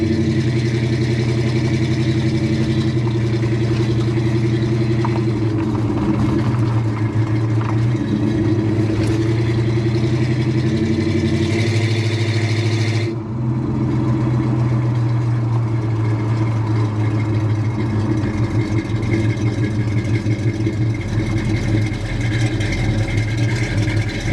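A 1972 Oldsmobile Cutlass with its original 350 V8 and 3-speed automatic runs steadily with a loud, continuous low engine hum that shifts pitch midway as it drives, with no talk.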